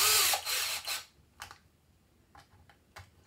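A power driver runs in short bursts while tightening a screw on the servo of a Pro-Line PRO-MT 4x4 monster truck, with a Savox SC1258TG servo. Two loud whirs come up close, then fainter clicks and brief spurts follow.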